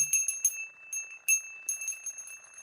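A small bell rings in bright, clear strikes, several quick taps in irregular clusters, close and alone with a shimmering ring lingering between hits.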